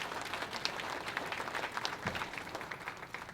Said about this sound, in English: Just to give them a round of applause.